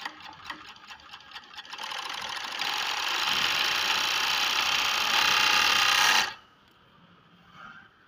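Overlock sewing machine running again after its broken needle plate was replaced, a few short stitching bursts followed by a steady fast whirring run of several seconds that stops abruptly, with no talk.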